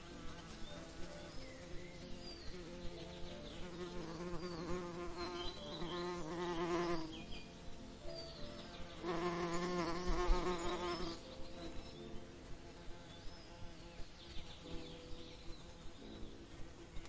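A bee buzzes in flight over a flower, a steady, fairly faint drone that swells twice, set against soft rhythmic background sounds.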